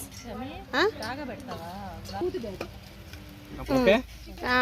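Vadas frying in hot oil in a pan over a wood-fired stove outdoors on a rainy day, a steady soft sizzle running beneath people talking in the foreground.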